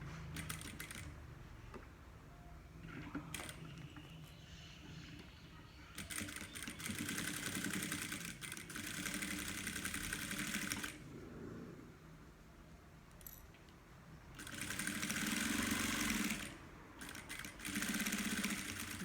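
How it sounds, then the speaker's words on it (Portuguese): A domestic sewing machine stitches a car trash bag with an organizer pocket, running slowly in several bursts of steady whirring separated by quiet pauses and small handling clicks. "Vai fazer na máquina doméstica devagar, não tenha pressa."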